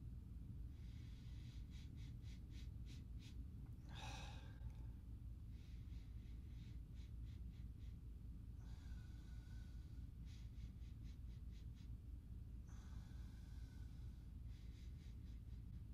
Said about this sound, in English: I'll go ahead and give them both the sniff test.